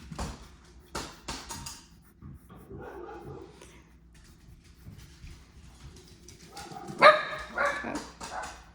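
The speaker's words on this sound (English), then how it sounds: "Sorry, it's my dogs." Several dogs bark indoors, with a few sharp distant barks early, a quiet stretch of background rustle, then a louder burst of barking and yipping near the end.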